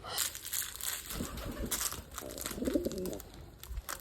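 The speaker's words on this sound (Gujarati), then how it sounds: "ઘરમાં આ જો કબૂતર હે ને ઉપર અહીં ચડી ગયા છે" Pigeons coo indoors, perched up high inside a house, in a few soft low murmuring phrases mixed with rustling and crinkling handling noise nearby, with no clear talk.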